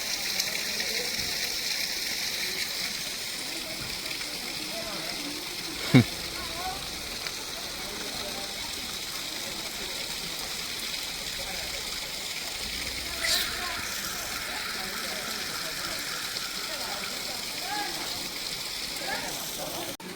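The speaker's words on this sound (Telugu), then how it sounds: "వర్షం పడుతుంది కాబట్టి." Rain falls steadily at Yana Caves near Gokarna, giving a constant wash of hissing patter and splashing water with a few sharp knocks, while people talk faintly beneath it.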